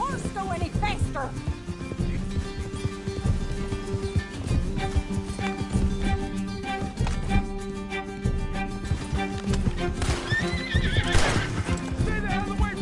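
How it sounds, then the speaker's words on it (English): Horse hooves clopping and a horse whinnying in the Red Dead Redemption 2 video game, heard close and steady under continuous music and talking voices. "Can't this horse go any faster?"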